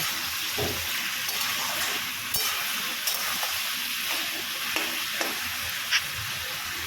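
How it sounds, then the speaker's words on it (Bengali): Pumpkin and snake gourd frying in a pan with salt and turmeric, stirred now and then: a steady bright sizzle runs throughout, with soft scraping spoon strokes and occasional light knocks, close and clear with no talking. "এবার দিয়ে দিলাম নুন আর অল্প করে হলুদ একটুখানি নাড়াচাড়া করে ঢাকা দিয়ে রেখে দেব"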